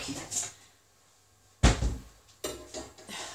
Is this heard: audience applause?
no